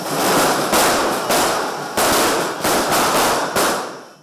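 Firecrackers burst in a rapid, loud barrage outside a Congress party headquarters during a birthday celebration, the explosions crackling densely with a handful of sharper bangs and then ending abruptly.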